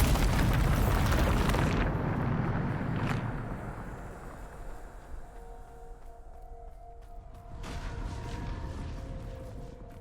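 A Bombarda explosion spell in the video game Hogwarts Legacy: one loud, deep booming blast that rumbles and fades over several seconds, followed by a softer swell of game effects.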